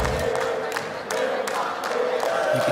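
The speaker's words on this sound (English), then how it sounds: "You can hear the crowd starting to make some noise." Crowd noise rising at a PUBG Mobile esports tournament arena, a steady roar of cheering with sharp bursts over about three seconds, mixed with a caster's talk.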